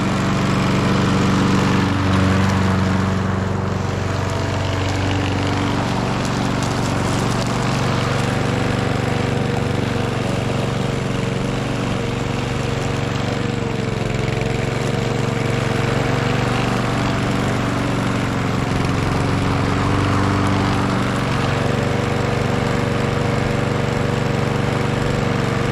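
A lawn mower engine with a blown head gasket runs continuously nearby, a loud, rough, steady drone with a throbbing low rumble throughout and no voices.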